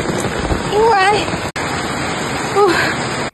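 Heavy rain pours down in a dense, loud, steady hiss. A person's voice rises briefly over it twice.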